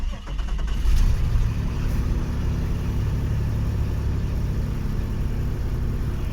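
A supercharged Nissan Xterra parts car engine catches and settles into a steady, loud, rumbling idle right up close, with a brief flare of revs as it starts.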